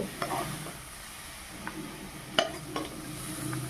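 Fried leafy greens with peanuts are scooped out of a wok, giving soft scraping and stirring sounds with a light sizzle and a few sharp clinks of the utensil against the pan.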